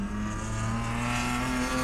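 A drift car's engine revs steadily and loudly at a Lone Star Drift round 3 event in Texas, its tone rough and crackly as though breaking up, with crowd and track noise around it.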